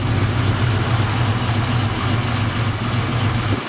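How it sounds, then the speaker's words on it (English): Two-door box Chevy with a freshly tuned carburetor idling steadily close by, a loud, even low rumble with constant pulsing throughout and no talk. "Good running motor."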